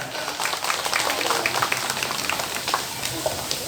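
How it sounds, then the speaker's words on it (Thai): A crowd applauds, a dense steady patter of many hands clapping at moderate volume. "ปรบมือให้เกียรติท่านหน่อยจ้ะ"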